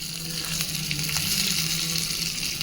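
Dried red chillies, turmeric and curry leaves sizzle steadily in hot oil in a steel pan for a tempering, a close, continuous frying crackle without pause or talk.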